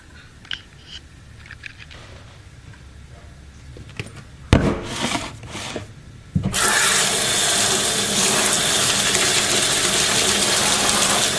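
Tap water runs into an empty aluminium cat food can as it is rinsed out. Light clatter comes first, then a loud, steady rush of running water fills the second half, with no talking.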